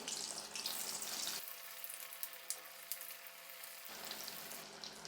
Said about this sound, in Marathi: आता आपण हे रोल जे आहे ते तळून घेऊ